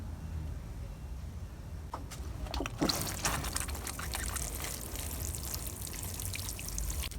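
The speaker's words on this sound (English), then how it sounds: "So like I'm watering them now" Water pours and trickles onto garden plants, starting quietly and then becoming a steady, close splashing stream that continues until the end.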